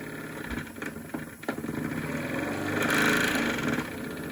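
Spirit-burner-heated model steam engine running while its boiler blows off, a continuous mechanical whir with a few knocks early on, then a hissing rush of steam swelling in the middle of the stretch, with no speech.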